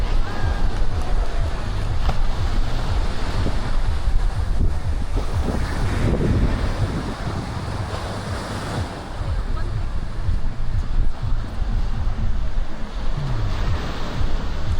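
Steady surf rolls onto the beach at Playacar in Playa del Carmen, a continuous loud wash of breaking waves mixed with buffeting wind noise on the microphone.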